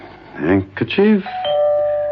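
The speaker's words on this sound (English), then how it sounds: "Doorbell." A two-tone doorbell chime rings clearly and close, with a brief voice or tone overlapping at the start before the ring fades.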